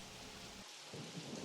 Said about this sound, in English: Metro Kingdom starts off in a rainstorm until you beat the Mecha Wiggler.